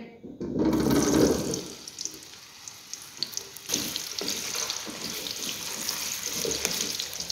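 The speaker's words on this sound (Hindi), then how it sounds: "तो आलूओं को हमने छील के वॉश कर लिया" Peeled whole potatoes washed under a running kitchen tap, with a splashing gush of water at first, then softer trickling, rinsing and clinking in the sink.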